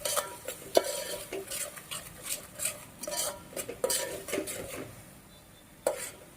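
A spatula scrapes and taps around a pan of tomato and onion masala, with close, uneven metallic clinks and a soft sizzle underneath, a few sharper knocks standing out.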